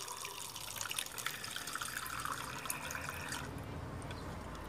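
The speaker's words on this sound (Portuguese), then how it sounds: "Porque eu preciso colocar água." Water pours continuously into a tray of succulent cuttings, a soft steady splashing trickle up close that thins slightly near the end, with no voices.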